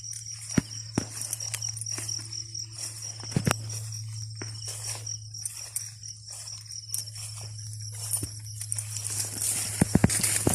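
A cow hauling a load of harvested corn on a farm, its hooves giving scattered irregular clops and thuds against a steady low hum and insect chirring.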